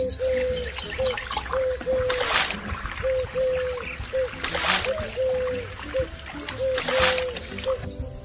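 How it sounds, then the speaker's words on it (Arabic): Water is poured and splashed for face washing in hot Iraqi weather: three separate splashy bursts, each a second or so long, stand out near and loud over a steady background with a faint tonal hum. "يلا اخوي صب له ماي، راح اموت من الحر"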